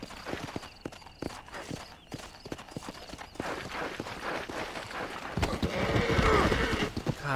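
Horse hooves clip-clop steadily in the video game Red Dead Redemption, a close, rhythmic trot that quickens and grows louder toward the end, joined by a brief whinny.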